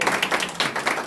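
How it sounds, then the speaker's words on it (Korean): A church congregation claps together for a July birthday, quick rhythmic hand claps in an even beat, close and fairly loud over the short moment. "지금 박수 한번 치면서 우리 생일 한번"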